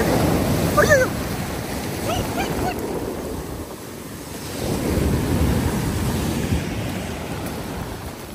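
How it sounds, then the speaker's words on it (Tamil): Rough sea waves surge and crash against the Khor Fakkan shore in a broad, roaring wash that swells and fades, mixed with wind buffeting the microphone. "இந்த ஏரியாவில் கடல் அலை எவ்வளோ ஃபோர்ஸாக வந்து மோதுது பாருங்கள்"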